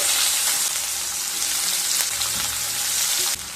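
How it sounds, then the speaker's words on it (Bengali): Roughly chopped onion and garlic fry in hot oil for a Bengali prawn dish, a continuous close sizzle with light stirring noises that drops slightly near the end. "পেঁয়াজ আর রসুন হালকা ভেজে নেব।"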